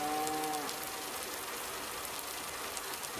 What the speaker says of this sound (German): Kühe machen Mu.